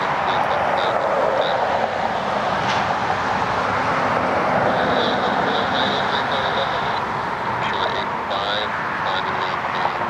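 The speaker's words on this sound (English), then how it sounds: "Next inbound flight should be American Flight 650 inbound from" An American Airlines jet inbound to Cleveland Hopkins, heard as a steady, fairly loud engine rumble in the distance, with a voice talking over the top.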